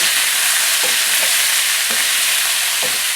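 Garlic cloves tossed in a hot pan, frying with a loud steady sizzle and a few soft scraping stirs of the pan at intervals.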